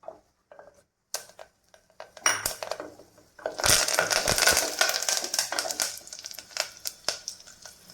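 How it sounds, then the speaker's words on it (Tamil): Mustard seeds and urad dal splutter in hot oil for a banana-flower kuzhambu. Sparse sharp pops and clicks build into a dense, close crackle of popping seeds. "கடுகு உளுந்தம்பருப்பு பொரிய ஆரம்பிச்சிருச்சு"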